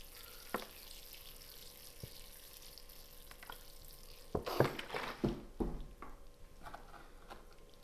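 Water runs and splashes out of a plant container during succulent repotting, with intermittent gurgling and trickling bursts over steady faint background noise.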